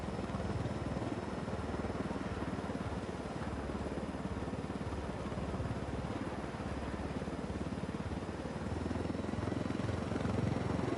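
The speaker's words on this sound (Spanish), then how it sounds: "el helicóptero parece que va como un poco lento" A helicopter in the video game Ghost Recon on PS4 drones on as a steady, loud, unbroken rotor and engine roar for the whole stretch, with no talking.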